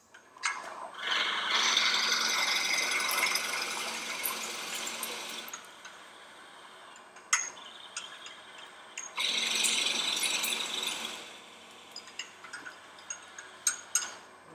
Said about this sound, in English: Anytime you're drilling a hole on a lathe with a Jacob's chuck